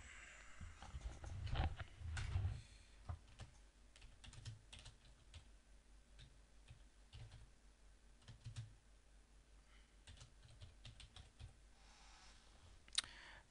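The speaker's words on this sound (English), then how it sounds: "and we type in." Quiet, steady typing on a computer keyboard while entering data into a Microsoft Access table, a continuous patter of light key clicks with a few louder taps, nearby and alone.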